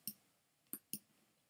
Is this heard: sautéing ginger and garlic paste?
no